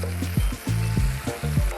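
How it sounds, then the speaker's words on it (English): Lamb sizzles and fries in a hot cast iron skillet, a constant crackling hiss broken by regular low thumps from stirring or moving the meat around the pan. "While we're letting it sizzle a little longer, we're gonna add our sauce."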